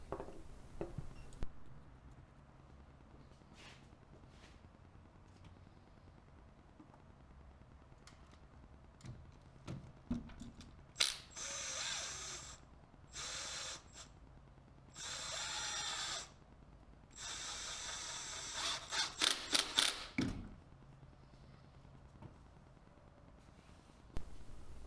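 A ratchet is worked on a V-band clamp on an engine intake, giving bursts of rapid clicking that start and stop several times among quieter handling noises.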